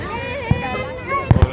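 Fourth of July fireworks over Lake Tahoe give a few muffled booms, one and then a quick pair, under people's voices talking nearby.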